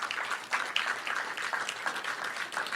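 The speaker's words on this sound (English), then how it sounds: "If we could please give a round of applause to all of our presenters today" A room full of people applauding presenters at a science update meeting, a dense, steady wash of clapping that carries on throughout without pause.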